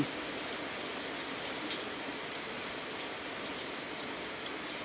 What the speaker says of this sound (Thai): รู้สึกว่าฝนมันเริ่มแรงขึ้นเรื่อยๆ แล้วก็มีลม